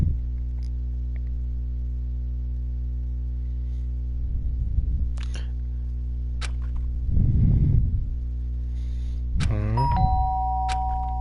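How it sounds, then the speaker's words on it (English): A doorbell rings once near the end, a sharp ding against a steady electrical hum, with a few soft clicks and rustles before it. "The sharp sound of the doorbell pierced my sleepy haze and pulled me back to the real world."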